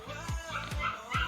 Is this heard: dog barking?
yes